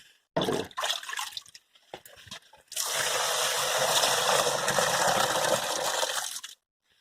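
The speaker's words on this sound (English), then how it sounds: "all you want to do is put enough water in to cover the level." Water gushing from a container into an old tub packed with comfrey leaves, a few short splashy bursts followed by a loud, steady pour lasting several seconds before stopping abruptly, with no talking.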